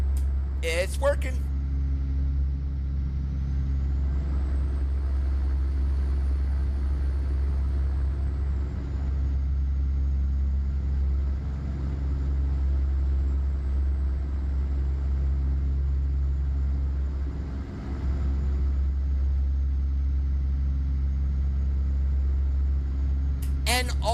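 A Volvo truck engine idles or cruises as a steady low drone with a deep rumble in American Truck Simulator, continuous and fairly loud throughout, with brief clicks at the start and end.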